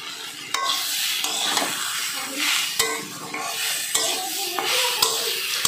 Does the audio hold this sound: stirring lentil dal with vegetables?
yes